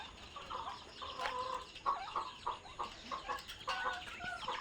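Several hens cluck close by in a farmyard, a string of short, uneven bursts and a few drawn-out calls over low background noise, with no speech.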